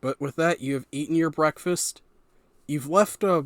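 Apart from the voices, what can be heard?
None of the usual background noises is heard.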